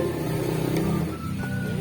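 A steady motor drone from a Ryobi EAG1518 angle grinder with a fault, hums throughout, a continuous mechanical whir with a faint rising whine partway through, fairly close and unbroken.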